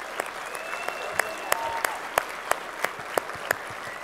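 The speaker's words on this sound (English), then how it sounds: "give them a round of applause." Keynote audience at SOE Live 2014 applauds the Landmark and EQ Next development team, a moderate steady clapping crowd with a few sharp nearby claps standing out in a regular pattern.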